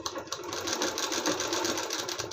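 A sewing machine runs steadily, stitching along the edges of a blouse with an even, continuous mechanical whir close by, without talk.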